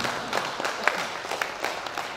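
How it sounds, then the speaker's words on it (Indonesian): A crowd applauds at the 55th anniversary celebration of KADIN, the Indonesian Chamber of Commerce and Industry, on an evening: steady, moderate clapping from many hands, slightly distant in a large room, with no pauses. "Boleh beri tepuk tangan yang meriah Bapak Ibu sekalian."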